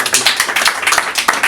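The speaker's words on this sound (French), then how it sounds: "Vous pouvez l'applaudir." Applause after someone is knighted as grand geometer at a French ceremony, a short burst of close, dense clapping from a small group with a few louder taps.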